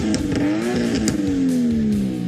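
A Nissan Skyline R33 engine revs loudly and close, its pitch climbing and then easing down in a smooth sweep, rough and throaty.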